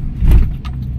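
Road traffic in Manila near Ateneo de Manila University, heard from close by with a loud passing car engine swell and faint jangling and rattles, no talking.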